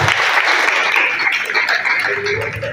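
A church congregation at a prophecy service breaks into sustained applause and cheering, a dense, steady roar of many hands and voices that stays loud throughout.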